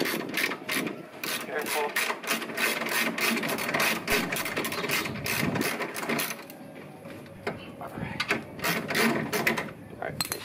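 A ratchet clicks in quick, repeated bursts while the last trailing arm bolt is being removed from a Honda Civic, with metallic mechanical clatter throughout and a brief spoken word.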